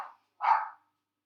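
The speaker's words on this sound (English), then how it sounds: "the dog is barking" A single dog barks once after a short faint yelp, fairly close, with no talk over it.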